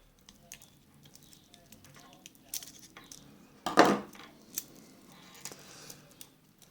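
A knife working at the protective film on a San Martin 62Mas homage watch gives small scattered scratches and clicks, then one short loud scraping burst, close by, with a voice speaking faintly.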